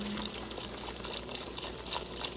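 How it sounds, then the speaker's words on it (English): Vegetable broth pouring into a Ninja Foodi pot, a steady faint liquid splash and gurgle lasting a couple of seconds with no talking. "We're adding in our vegetable broth."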